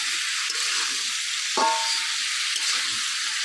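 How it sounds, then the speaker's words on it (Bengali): Carrots, beans, capsicum and spring onion stalks fry with salt in a pan, giving a steady, close, dense sizzle throughout, broken once by a brief clink of a utensil. "গাজর, বিনস আর ক্যাপসিকাম আর কটা দিয়ে আমি এটাকে ভালো করে ভেজে নিচ্ছি"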